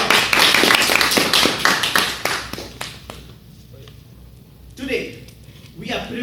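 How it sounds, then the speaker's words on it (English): An audience claps for a round of applause at a Toastmasters installation ceremony, a dense burst of many hands for about three seconds that fades to quiet, followed by a few brief sounds. "let's hear it for a loud round of applause"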